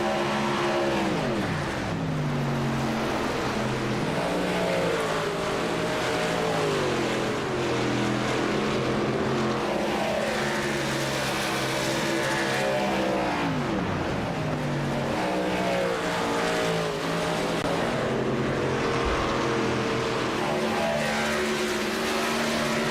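Racing trucks lap a race track, their engines roaring and whining as several of them pass in turn, with pitch rising and falling over a continuous loud drone.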